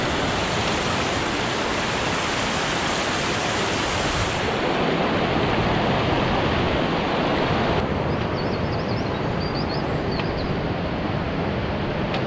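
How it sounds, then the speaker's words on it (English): The River Derwent rushes past on a coast-to-coast walk, a loud, steady broadband roar of flowing water that fills the whole stretch without any voices. "River Derwent."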